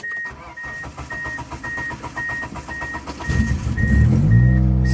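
A car engine cranks with a repeated high chirping beep, then catches and settles into a loud, steady low idle, close by, with no talking.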